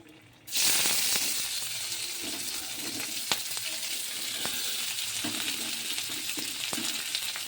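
Onions hit a hot pan and sizzle steadily and loudly, a continuous close frying hiss with occasional clicks of stirring.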